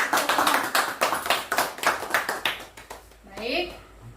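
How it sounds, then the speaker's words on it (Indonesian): An audience at a school gathering claps in a quick burst of sharp, close hand claps that thins out and stops, while a voice speaks faintly near the end. "tepuk tangan dulu buat Pak Dwi"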